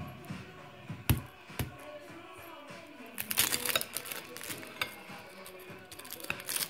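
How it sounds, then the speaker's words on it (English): Knife slicing through a crunchy fried chicken spring roll, a few sharp cracks followed by a burst of crackly crunching as the blade goes through, close and fairly quiet. "I'll show you how crunchy it is. I'm gonna use a knife. I'm just gonna cut it in half."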